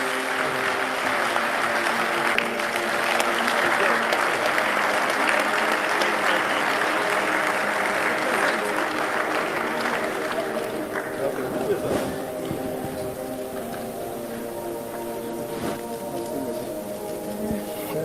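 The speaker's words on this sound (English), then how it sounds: "Can we please clap for the Dean as she comes up?" An audience at an award ceremony applauds as the Dean comes up, a full, sustained roar of clapping that gradually thins out over about eighteen seconds while a voice speaks faintly beneath it.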